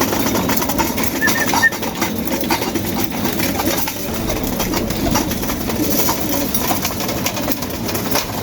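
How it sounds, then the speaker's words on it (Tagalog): Pigeons at a racing loft coo softly and steadily over a constant background hum, with a brief thump or flutter near the start. "lahat ng ating ibon sa racing"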